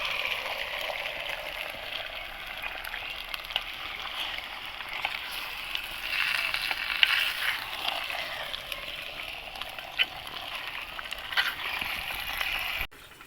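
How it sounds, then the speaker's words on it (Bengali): Handi chicken frying in a pot, stirred slowly: a steady, moderate sizzle and bubbling hiss continues for the whole stretch, with occasional soft scrapes, and no voices. "আস্তে আস্তে করে নাড়বো।"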